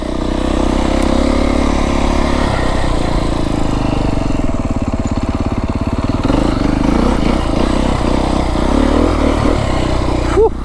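A Beta 350 X-pro dirt bike is ridden over big rocks in the southern Arizona mountains, its engine loud and close, chugging and blipping unevenly as the bike bounces across the terrain.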